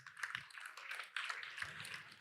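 Church congregation applauding members standing at a service, faint hands clapping in a loose, uneven patter with a few sharper claps rising out of it, steady throughout.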